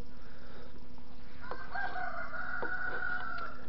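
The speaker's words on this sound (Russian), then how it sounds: "Петухи кричат." Roosters crowing, a few long drawn-out calls overlapping in the middle distance over a steady low mechanical hum.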